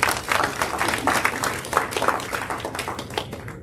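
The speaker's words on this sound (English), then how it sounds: "Give a round of applause to Alicia Pancakes." Audience applause at a speaking event, a lively burst of many hands clapping, fairly close and dense, fading out near the end.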